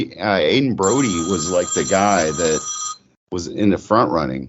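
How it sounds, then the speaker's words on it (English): A phone rings with a steady electronic tone behind a man's conversational speech, sounding for about two seconds before cutting off while the talk continues. "Sorry for my phone there."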